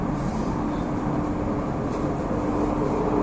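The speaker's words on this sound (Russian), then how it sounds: "я подъезжаю на метро к станции Схидам-центрум" A Rotterdam metro train rolls toward Schiedam Centrum station, giving a steady, continuous rumble and running noise heard from on board, with no talk.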